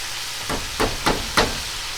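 Food fries in hot oil in a pan, giving a steady hiss that surges in four short bursts, close and fairly loud, with no talking.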